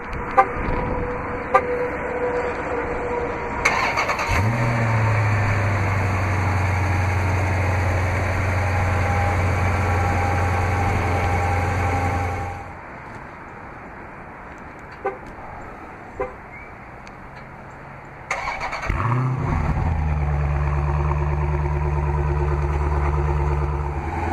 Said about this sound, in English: this vehicle is equipped with remote start. To operate is easy, you just double press the remote start button on the key fob.